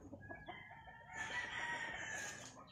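A Boston Roundhead rooster lets out a single drawn-out crow that rises and trails off, heard faintly at a moderate distance with no talking over it.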